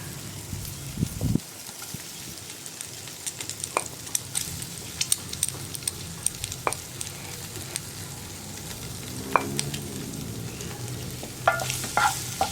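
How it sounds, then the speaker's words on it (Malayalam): Egg white pieces fry and get stirred into a hot masala for egg pepper fry, a steady close sizzle broken by frequent scraping spoon strokes against the pan over about twelve seconds, with no talk. "ഇനി നമ്മളിതിലേക്ക് നമ്മൾ കട്ട് ചെയ്ത് വെച്ചിരിക്കുന്ന എഗ് വൈറ്റ് ചേർത്ത് കൊടുക്കുക"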